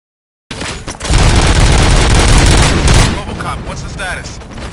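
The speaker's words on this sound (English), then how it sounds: "Gunshots? What's going on?" Gunfire in the video game Robocop: Rogue City: after a moment of silence a loud, dense burst of rapid shots and booms runs for about two seconds, then fades into clattering mechanical noise.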